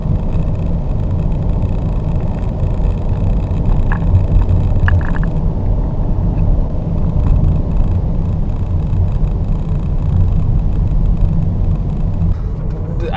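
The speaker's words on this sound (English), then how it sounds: "this engine will always be under relatively significant load, which also means that it'll be fairly loud" The three-cylinder engine of a Renault Austral E-Tech Alpine full hybrid drones under load, a steady low rumbling hum with a faint thrum that holds for the whole stretch without pauses, fairly loud and close, with no speech.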